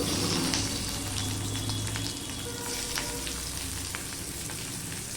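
Half a sliced onion with garlic hits hot oil in a wok and fries with a loud, steady sizzle that fills the whole stretch, with a few scraping stirs and no talking.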